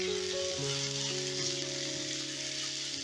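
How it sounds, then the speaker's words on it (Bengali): Chopped onions and four green chillies fry in hot oil, giving a steady, close sizzle that runs the whole time beneath sustained background music. "এবারে ওই তেলেই আমি পেঁয়াজ ভেজে নেব।"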